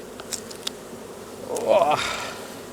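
Honey bees buzz close around hive frames full of honey, a soft insect hum with one bee swooping near in a rising, louder buzz, and a couple of faint clicks at the start.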